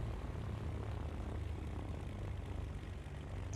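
Steady propeller airplane engine drone in a flight video game, a continuous low rumble with harmonic hum, moderately loud and unbroken throughout, with no voices.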